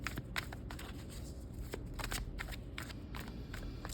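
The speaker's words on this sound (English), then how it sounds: "As I shuffle" Tarot cards being shuffled by hand, a steady papery riffling and rustling with sharp repeated flicks throughout, close and fairly quiet, with no talking.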